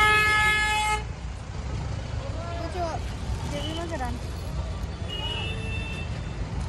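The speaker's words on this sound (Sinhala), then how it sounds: "මෙතන සද්ද බද්ද නම් වැඩි ගණන් ගන්න එපා මේ පාරනේ මේ පේනවනේ පාර ට්‍රැෆික් එක" A loud car horn blasts for about a second over steady roadside traffic rumble at a Srinagar street food stall in India, with a fainter honk a few seconds later and people talking nearby.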